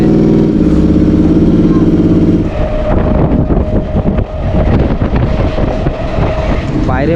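A train rumbles at Howrah railway station, loud and close, with a heavy droning roar that gives way to rattling, clattering wheel and car noise and a rising squeal at the end.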